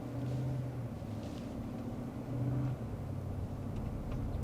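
A 2023 Cadillac Escalade pulls away after being shifted into drive, heard from inside the quiet cabin as a steady, low engine and road rumble with a slight swell partway through.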